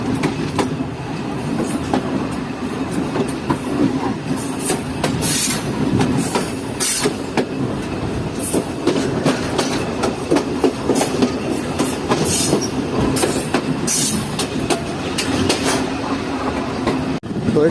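A passenger express train running through the Sindh countryside in Pakistan, a steady loud rumble with rhythmic clickety-clack of wheels over rail joints and occasional metallic squeals, continuous for the whole stretch.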